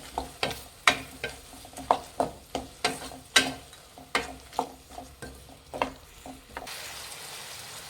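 A spoon scrapes rhythmically around a pan while tomatoes and asafoetida powder are mixed in for sambar, about a dozen crisp, evenly spaced strokes over a soft sizzle, with no talking.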